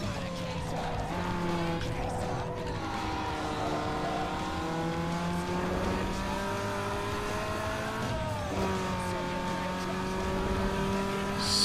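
Mazda MX-5 engine in Need for Speed Underground 2 hums steadily, pitch rising and falling through gear changes as it drives at speed, with a voice talking over it.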